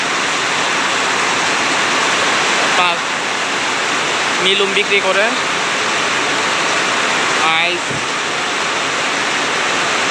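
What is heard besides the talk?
heavy rain falling at an evening market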